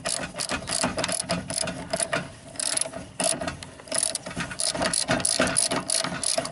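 A ratchet clicks in quick repeated bursts, close and fairly loud, while an Allen head bolt is loosened on a Suzuki near its dust cover, with metallic ticking and handling noises between strokes.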